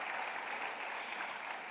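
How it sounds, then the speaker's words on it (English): Conference audience at a Kigali business event gives a round of applause for a speaker, a brief, even patter of many hands, fairly quiet and distant in the hall. "you can give her a round of applause"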